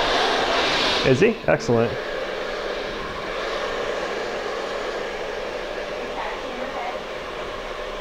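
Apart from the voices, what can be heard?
hair blower drying hair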